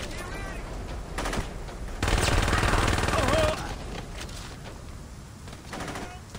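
Gunfire from a weak gun in the video game Saints Row: a loud burst of rapid automatic shots in the middle, with scattered fainter shots before and after.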